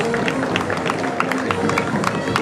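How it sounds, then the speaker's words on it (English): Steady crowd applause and scattered clapping at an outdoor veterans parade, a dense continuous patter of many hands with a few louder claps standing out. "Another round of applause."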